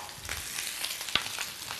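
Shrimp frying in a hot pan, a close steady hiss and crackle of sizzling with one sharper pop in the middle.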